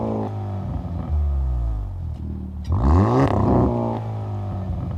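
A Hyundai Kona N fitted with an AFE Takeda catback exhaust, resonators intact, in N mode, idles close with a steady burble, then a quick sharp rev flares up and falls back before the idle resumes.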